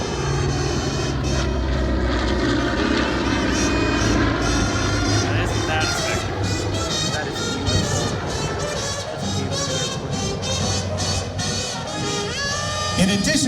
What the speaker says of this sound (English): one of two flyable B-29s in the world today